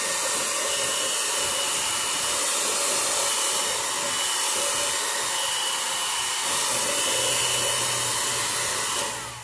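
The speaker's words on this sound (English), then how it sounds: "the next step is going to be the hair dryer. So you're going to take your hair dryer." Hair dryer blowing steadily and loudly to dry paint coated on a jar for a kids' craft. A continuous airy roar carries on throughout with no talk.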